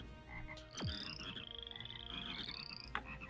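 Frogs croak in the artillery game Shellshock Live, a loud dense chorus over game music with a sharp falling whistle near the start and a bright sustained tone, no voices.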